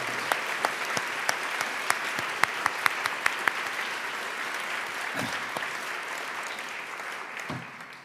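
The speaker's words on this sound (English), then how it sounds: "Please stand up and let's give them a big round of applause." A standing audience at an evening conversation event applauds in a full, sustained roar of clapping, with a few sharp individual claps standing out early on before it settles into a steady wash.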